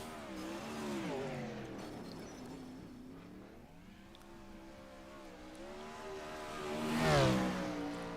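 Race car number 18 at a night race of the Ironman 55 on a short oval, its engine droning and rising and falling in pitch through the corners over a full lap, swelling loudest as it passes near the end.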